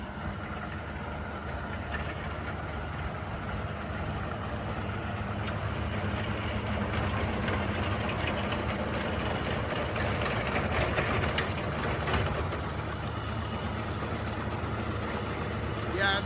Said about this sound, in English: the tractor that we have it on is a Kubota M96S